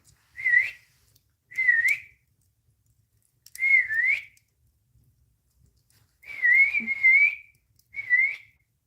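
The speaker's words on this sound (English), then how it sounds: "Let me see if I can whistle for him." A person whistles to call a cat, five clear rising-and-falling whistles, one held longer, spaced apart in an otherwise quiet outdoor setting.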